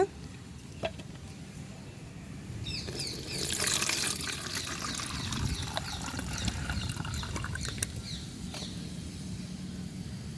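Water is poured and filtered into a jar as part of diluting a homemade plant fertilizer, giving a steady liquid trickle and splash that swells in the middle and carries on at moderate loudness, with no talking.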